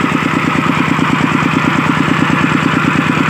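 Engine of a farm water pump running in the fields, producing a close, loud, steady chugging idle with an even rapid pulse throughout.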